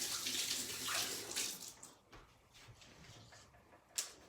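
Tap water runs as hands are rinsed of shredded potato at a kitchen sink, a soft steady splashing that thins out partway through, ending with a brief louder splash.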